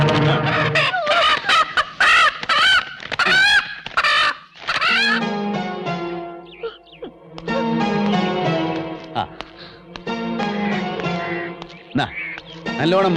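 Chickens cluck and squawk in quick bursts amid a busy backyard scene. The calls are loud and close, mixed with raised voices and other noise that come and go throughout.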